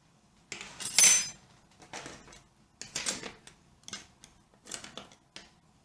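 Metal knitting needles clicking while binding off stitches on a baby poncho, several separate bursts of light tapping and scraping, close and fairly quiet, with short silences between.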